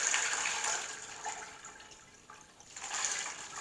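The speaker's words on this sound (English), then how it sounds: "now I'm just pouring the liquid through a shirt to filter out the big chunks" Wood ash lye liquid poured through a shirt used as a filter, a soft, uneven trickling and splashing of liquid that swells and fades, fairly quiet and close with no talk.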